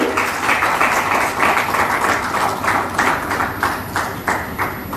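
Audience applause at a stage ceremony where appointment letters are handed to newly selected district sports officers by a chief minister: steady, dense clapping from a crowd throughout, with rhythmic surges and no talk over it.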